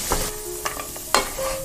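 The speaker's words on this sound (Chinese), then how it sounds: "糖和水的比例是1:1，搅拌至粘稠，加入花生和调料" Peanuts and seasoning being stirred into thick, sticky 1:1 sugar-and-water syrup in a wok, a soft bubbling sizzle broken by a few light clinks and scrapes of the spatula.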